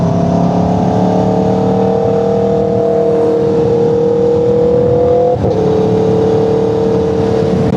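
An Aprilia RSV4 Factory superbike, a 200 hp machine, is ridden below 3,000 RPM. It gives a loud, steady engine drone that holds nearly level, with one brief dip, and no voices.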